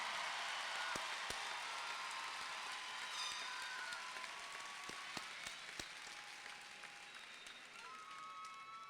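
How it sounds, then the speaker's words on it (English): An audience at a Duncanville High School graduation applauds its students with a dense, sustained wash of clapping that sounds distant and even and fades slightly toward the end. "let us applaud all of our students now"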